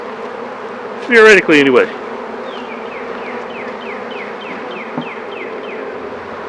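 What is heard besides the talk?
honey bees buzzing during a beehive inspection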